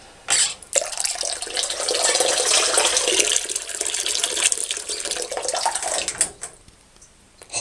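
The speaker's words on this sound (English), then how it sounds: "Hot water" Hot water runs steadily from a bathroom tap into a basin, a close, continuous gushing splash that starts abruptly, holds for about six seconds and then cuts off.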